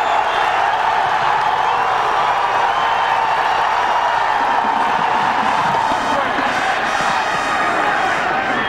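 A large outdoor football stadium crowd at a 1999 PIAA AAAA high school state title game roars steadily, a dense sustained wash of cheering and yelling that swells slightly toward the end.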